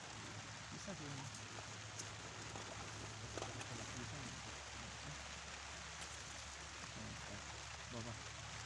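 Steady rain falling in a forest at a bushcraft camp, a soft continuous patter and hiss heard fairly faintly, with people talking quietly over it.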